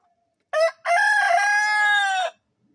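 A single rooster crow nearby, a short clipped note followed by a long drawn-out call, then silence.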